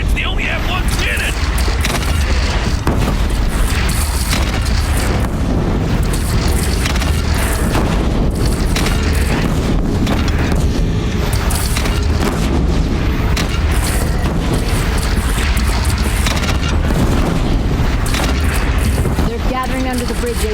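Cannon fire and explosions in a bandit battle in Horizon Zero Dawn, heavy booms and blasts pounding continuously over a loud, dense battle din, with voices shouting at times.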